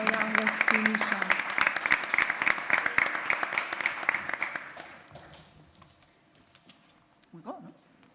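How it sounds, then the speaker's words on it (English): A conference audience gives a closing round of applause to the speakers at a plenary session: dense clapping for about five seconds, then it tapers to scattered claps and a few voices. "let's give a last round of applause to our speakers"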